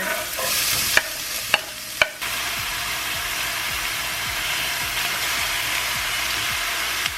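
Chopped onion sizzles steadily in a pan, a dense broadband frying hiss with a few sharp clanks of a utensil against the pan early on, then continuous sizzling alone.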